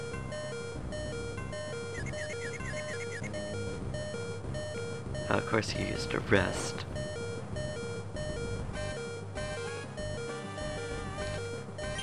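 Repeating electronic warning beeps in the Pokemon Emerald video game pulse steadily under looping game music, and a voice speaks briefly in the middle.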